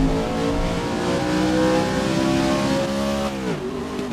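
Loud, steady engine roar from a Holden Commodore in GRID 2019, holding high revs before the pitch drops sharply near the end as it shifts or lifts off, with a faint tyre squeal and no talking.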